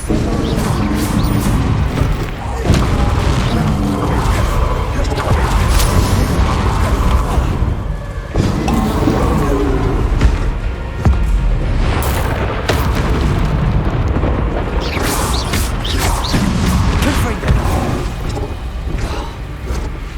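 Bombarda spell explosions in Hogwarts Legacy going off repeatedly as loud, close booms and crashes amid continuous combat noise, with occasional faint voices underneath.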